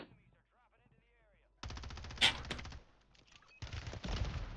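Sniper rifle shot in Warzone, heard as one sharp loud crack amid bursts of in-game gunfire and ambient noise, with faint voice activity nearby.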